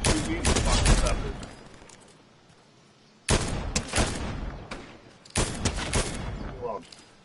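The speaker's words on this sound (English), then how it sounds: "Yeah, dude, and they all decided to shoot me." Rapid bursts of gunfire in the Fortnite video game, three separate volleys of loud shots with short quiet gaps between them, heard under and between casual talking by players.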